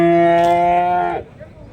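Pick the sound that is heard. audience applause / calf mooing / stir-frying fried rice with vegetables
calf mooing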